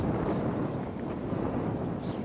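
Strong wind blowing across an open lakeshore, a steady loud rumbling gust buffeting the microphone throughout with no other sounds standing out.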